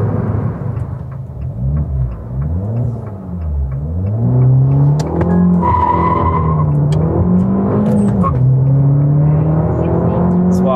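Abarth 595 hatchback pulling hard from a standstill toward 100 km/h, engine note climbing through gear changes, loud and steady from inside the cabin, with a brief voice partway through.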